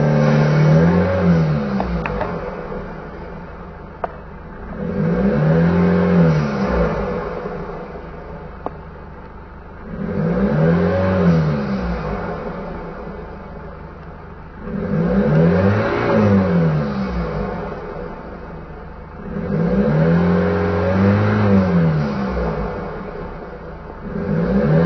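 A Hyundai H1 van engine, its air filter box left off, revs up to about 2500 rpm in four repeated surges roughly five seconds apart, each rising to a loud rumbling roar, then dropping back to a steady idle, close by with no talk.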